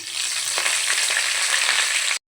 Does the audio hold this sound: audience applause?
no